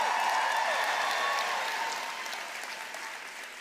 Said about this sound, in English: How about another huge round of applause for them